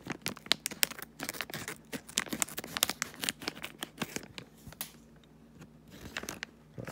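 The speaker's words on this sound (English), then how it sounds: "I gotta take my scissors, cut this open." Scissors snip and crunch through a crinkly plastic Playmobil blind bag, making a run of sharp close cuts and rustles that thin out toward the end.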